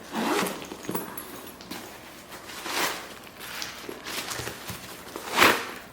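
A handbag zipper with gold hardware is pulled open in a few short, raspy strokes, close by and fairly quiet, with brief pauses between pulls.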